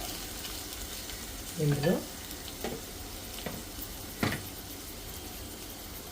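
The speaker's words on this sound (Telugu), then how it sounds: "ఇలాగేనండి, నూనెలో బాగా మగ్గాల." Ivy gourd with garlic cooks in oil, giving a steady, soft sizzle throughout. A brief spoken word and a few stirring knocks are heard over it.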